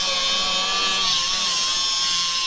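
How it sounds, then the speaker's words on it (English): A power tool grinds away spot welds on the rusted roof of a lifted limo, giving a steady, high, whining hum that runs unbroken and fairly close, with no pauses. "we're just getting all my spot welds all ground up"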